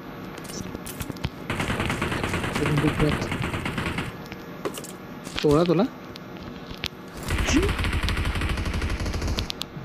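Rapid automatic gunfire bursts from the mobile battle-royale game BGMI, played on an iPhone 14 Pro Max, with loud rattling volleys and sharp shots coming in waves while players talk excitedly over the action.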